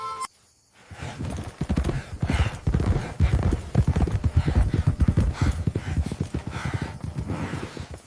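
Several horses' hooves clip-clop rapidly and loudly as riders come hard into a ranch yard, a dense, continuous galloping patter after a brief quiet start.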